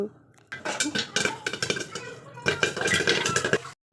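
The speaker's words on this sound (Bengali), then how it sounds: "আর এত শব্দ হচ্ছিলো পপকর্নের কি বলবো" Popcorn bursts inside a covered pan, a dense, irregular clatter of kernels striking the lid and metal, close and loud, ending abruptly.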